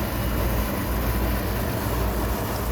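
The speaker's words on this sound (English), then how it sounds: "That noise is the air conditioner" A steady, continuous mechanical hum and whoosh of an air conditioner, unchanging throughout with no other sounds.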